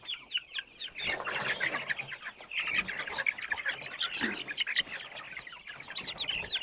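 Chickens clucking and chirping close by, among them a young naked-neck chick and a young rooster, a busy, continuous chatter of short calls.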